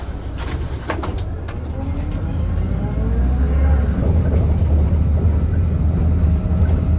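A city bus in central Yakutsk is heard from a street stop on a mild early-summer day. A low engine rumble grows steadily louder and closer, with faint traffic noise around it.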